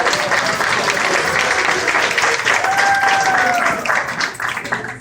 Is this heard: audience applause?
yes